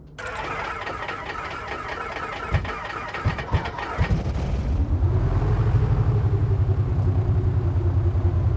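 A video-game Aerostar 600 aircraft piston engine, cold-started, cranks with sharp uneven bursts, sputters, then catches and settles into a steady, loud running drone.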